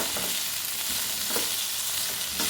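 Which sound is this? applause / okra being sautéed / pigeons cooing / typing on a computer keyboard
okra being sautéed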